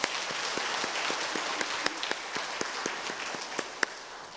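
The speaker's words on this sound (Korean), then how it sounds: "우리 하나님 앞에 영광의 박수 올립니다." A church congregation at a Korean Wednesday worship service applauds together, a dense, steady wash of clapping with sharper individual claps standing out, fairly close and with no talking.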